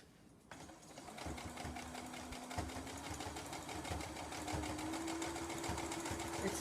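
A sewing machine stitches steadily around the edge of a towel, its needle running in a fast, even mechanical rattle close by, with a low motor whine rising slightly in pitch as it goes.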